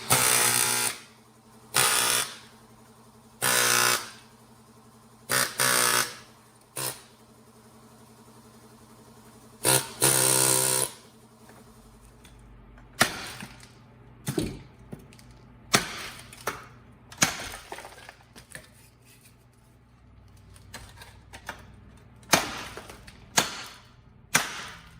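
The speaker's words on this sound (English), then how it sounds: "Now I'm using an air chisel here." A pneumatic air chisel hammering in short, loud rattling bursts during a rear wheel bearing replacement on a 2010 Toyota Camry, separated by pauses, with quieter clicks and knocks from tools in between.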